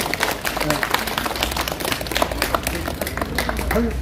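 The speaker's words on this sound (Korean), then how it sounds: "박수 한번 쳐주세요." An indoor audience breaks into brisk, crowded clapping and applause to welcome someone being introduced. The clapping stays close and busy throughout while voices talk over it.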